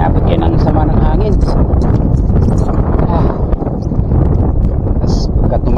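Strong wind at sea roars and buffets the microphone in a constant loud rush, with someone talking throughout over the gusts.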